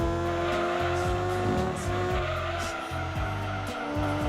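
A race car accelerating in Gran Turismo 2, its engine droning loud and continuous with repeated upshifts that rise and drop in pitch, tires squealing faintly over the top.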